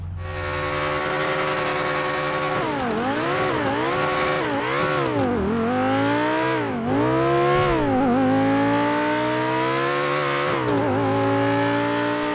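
Exhaust of the Obey Nine R sports car, modeled on an Audi R8 V10, driving in GTA 5: a steady loud engine drone that swoops up and down through several quick rev changes and gear shifts, close and continuous.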